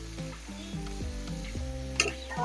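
Dried chili powder and cumin powder being stirred and fried in a pan, a close, steady sizzle with scraping strokes of the spoon.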